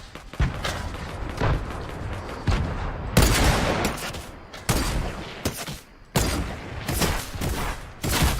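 Gunfire in a video game, with bursts of rapid shots and heavy booming volleys that come in several loud clusters, some pauses between them, and no talking.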